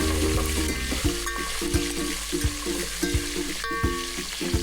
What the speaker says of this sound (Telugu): అలాగే 5 కట్ చేసుకున్న పచ్చిమిర్చి వేసుకుని అవి బాగా వేగేదాకా 5 నిమిషాలు మీడియం ఫ్లేమ్ మీద కలుపుకోండి.